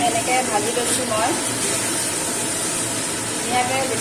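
Chicken meat with no marinade frying in a pan gives a soft, steady hiss and sizzle while someone talks over it.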